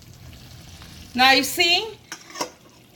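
Guyanese curry chicken cooking in a pot on a high stove, releasing its own water, with a soft simmering and sizzling bed and a few stirring and utensil clinks, while a person speaks briefly over it.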